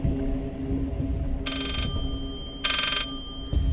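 A telephone in the horror game Layers of Fear rings in two bright electronic bursts, the second after a pause, over a low droning ambient rumble with no talking.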